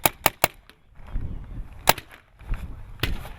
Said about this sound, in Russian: После объявления старта выстрелы раздались по всей площадке.